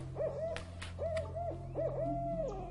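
An owl hoots three times in a slow, evenly spaced series, each call a soft rising-and-falling tone over a low steady hum.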